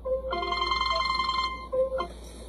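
A telephone rings with a steady electronic ringtone, a pair of bright repeating tones that play on for about two seconds before a short pause and a brief restart, loud and close with no talking over it.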